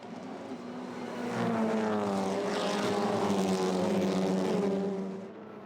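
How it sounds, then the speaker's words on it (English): Touring race cars, a Volkswagen Golf and a Honda, roar past at a circuit chicane, engines droning with shifting pitch as they brake and swell louder for a few seconds before fading. "Maxime Potty's Volkswagen Golf managed to pass the Honda of Josh Files for third position at the braking for the Ascari chicane."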